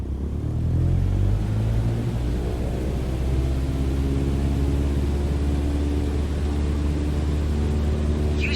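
A single-engine airplane in MS Flight Simulator 2020 at full takeoff power, producing a loud, steady engine drone with deep rumble and broadband roar that holds without a break throughout.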